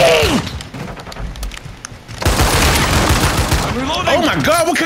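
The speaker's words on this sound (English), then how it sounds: "what kind of shotgun is that?!" Shotgun blasts in a video game, the Expedite-12, boom out loud and repeatedly across a dense gunfight, with overlapping shots and clatter and excited talk mixed in.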